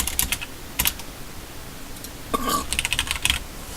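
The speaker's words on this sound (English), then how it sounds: "Typing." Quick bursts of typing on a computer keyboard during an online competitive battle game match, short clusters of close, crisp key clicks separated by brief pauses.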